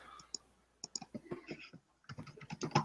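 Computer keyboard being typed on during a podcast recording, giving quick irregular clicks and keystrokes close to the microphone. A short pause comes before a denser burst of typing, and no speech is heard.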